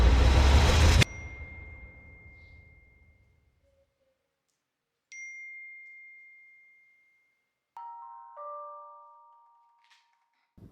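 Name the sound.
phone message notification sound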